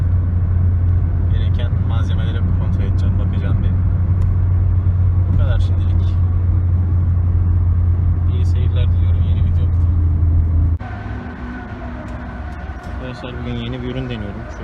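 A steady low engine rumble from inside a moving car, with someone talking over it throughout; the hum drops away near the end.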